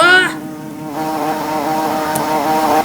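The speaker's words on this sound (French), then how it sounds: "Mes abeilles attaquent." Swarming bees in a Roblox video game buzz in a steady, droning hum that holds loud and continuous throughout, with no talking over it.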